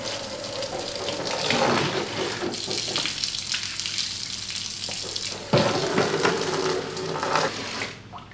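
Water from a tub pours and splashes steadily onto a floor, close by, with a brief louder surge partway through; no talking.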